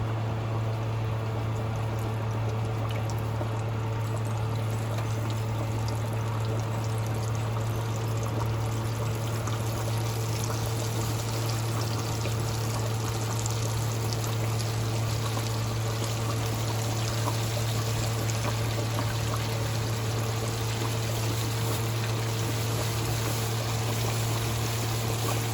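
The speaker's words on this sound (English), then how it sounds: "Grease hot and ready to fry." Pork chops fry in a pan of hot grease, giving a steady, dense sizzle and crackle that runs without a break for the whole stretch, with no voices over it.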